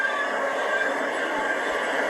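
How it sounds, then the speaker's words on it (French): Minecraft Nether portal teleportation effect: a steady, dense whooshing whir with a sustained tonal hum, constant and loud throughout with no talking. "c'est le bruit de la téléportation dans le nether"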